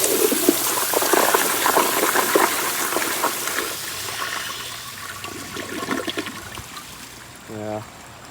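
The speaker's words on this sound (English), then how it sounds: "Here's another flush." A 1992 Kohler Kingston Water Guard toilet flushes with a loud, close rush of water that tapers into trickling and refilling, ending in a short rhythmic gurgle; a voice speaks briefly over it.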